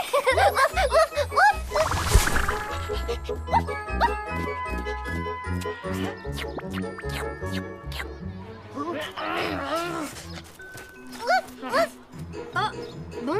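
Children playing at being dogs, voices yapping and barking in imitation amid giggles, chatter, jingling and background music, lively and close throughout.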